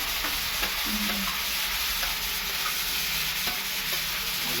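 Spice paste frying with fish roe fritter mixture in a pan, a steady hissing sizzle with faint intermittent scrapes from stirring, close and continuous.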